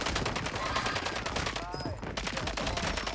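Rapid automatic gunfire in Call of Duty on Rebirth Island, dense bursts of shots rattling almost without pause across the clip, loud and close, with a brief lull in the middle and a voice speaking underneath.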